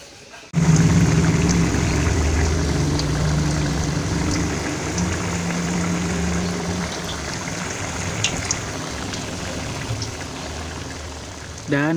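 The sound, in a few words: frying bakwan vegetable fritters in oil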